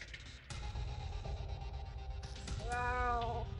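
A cat in a video game meows once, a clear, rising and falling call near the end that stands out over steady game ambience and clatter.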